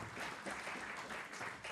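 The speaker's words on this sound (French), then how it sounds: "Je pense que vous pouvez les applaudir," Audience applauds after a round table on intralogistics, a short burst of steady clapping, fairly faint and distant.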